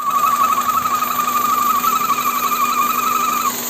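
A steady high whistle rises from under the hood of a Toyota Carina, holding one sharp tone over the engine's running hum before cutting off just at the end.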